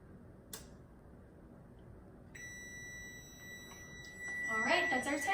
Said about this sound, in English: that's our timer